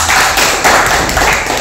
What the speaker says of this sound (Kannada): ಅವರಿಗೆ ನೀವು ಎಲ್ಲರೂ ಕೂಡ ಚಪ್ಪಾಳೆ